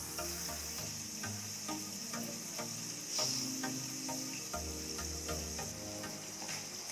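Brinjal chutney cooks in a covered pan with a soft, steady sizzle and faint bubbling. Light clicks and a few low tonal hums sit beneath the quiet, continuous hiss.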